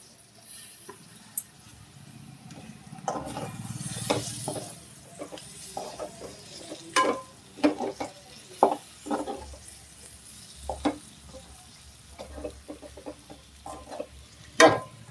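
Chicken pieces fry with a couple of sprigs of curry leaves in a pan, giving a soft steady sizzle broken by repeated stirring scrapes and clatters that grow busier toward the end, with no talk.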